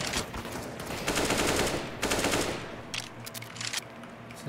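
Rapid automatic gunfire and bursts of shots in a competitive first-person shooter match with smoke and C4, loud and continuous with several dense volleys and no talking.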